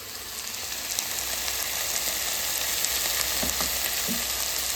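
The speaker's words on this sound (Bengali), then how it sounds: "এই যে কাঁচা লঙ্কা একসঙ্গে ভেজে নেব" Onions and green chillies fry in a pan, a steady, close sizzle running the whole time with a few light stirring knocks and scrapes on top and no talking.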